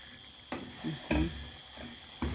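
Corned beef and tomatoes frying in a pan under a soft sizzle, with several distinct scraping, knocking strokes of a utensil stirring at close range, spaced irregularly about half a second apart.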